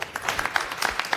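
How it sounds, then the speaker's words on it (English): Audience at a conference talk breaking into applause, a short burst of brisk, irregular clapping from a modest crowd, close and fairly loud with no voices over it. "Let's hear some clapping."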